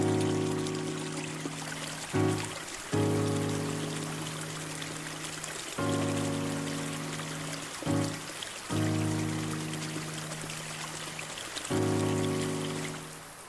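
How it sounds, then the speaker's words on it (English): Water flows and trickles steadily near a hidden lake along a long, narrow, dark path, a continuous wash with a low hum and a few brief breaks. "the sound of water."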